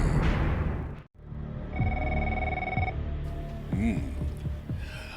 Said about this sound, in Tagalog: Agri-ring manen ti telepono.